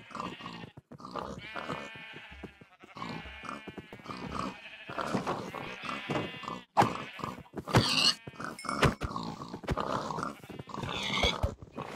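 Pigs in the video game Minecraft give repeated grunts and squeals close by, a busy overlapping string of animal calls with short pauses and sharp hits mixed in.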